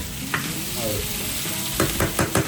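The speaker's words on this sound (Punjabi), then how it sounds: "ਇਹਨੂੰ ਹੁਣ ਆਪਾਂ ਥੋੜਾ ਜਿਹਾ ਭੁੰਨ ਲੈਂਦੇ" Chilli chicken sizzles loudly in a hot pan while being stirred, with a steady close frying hiss broken by several scraping strokes of the spoon.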